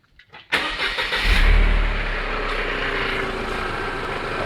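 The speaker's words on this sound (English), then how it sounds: "We'll start the vehicle again." A Mercedes SLK R170 engine cranks and fires after a brief quiet start, then settles into a steady, close, loud idle with a strong low rumble.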